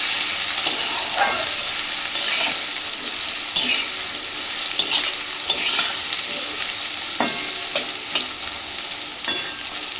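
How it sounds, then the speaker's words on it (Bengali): Garlic paste and potatoes fry in a pan with a steady, bright sizzle, broken by periodic scraping and clacking strokes of a stirring utensil, close and continuous. "রসুন বাটাটার কাঁচা গন্ধটা চলে যাওয়া পর্যন্ত আলুর সাথে রসুনটাকে একটু কষে নেবে।"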